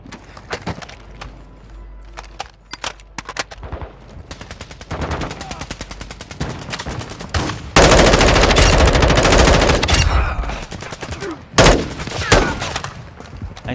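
Gunfire in the video game Call of Duty DMZ, with scattered single shots building to long loud bursts of automatic fire, and players talking between the volleys.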